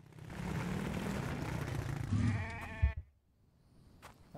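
A goat bleats amid rumbling game ambience in the video game The Infected, a wavering bleat rising out of the steady background noise before cutting off into near silence.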